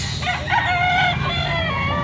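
A three-year-old white gamecock rooster crows loudly nearby in one long, wavering call lasting about two seconds.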